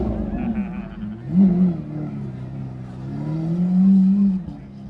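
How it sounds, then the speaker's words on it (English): A loud car engine revs hard at a motorcycle rally, two strong surging rev swells rising over a steady rumbling idle, close by and without speech. "That's a loud car."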